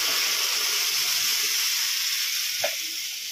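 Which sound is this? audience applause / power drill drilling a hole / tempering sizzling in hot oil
tempering sizzling in hot oil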